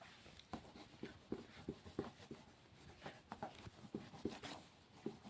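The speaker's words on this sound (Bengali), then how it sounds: "আচ্ছা আমি এটা ভালো করে লিখে দিচ্ছি" A pen scratches across paper by hand in a quiet room, producing a faint, irregular series of short strokes and taps close to the listener.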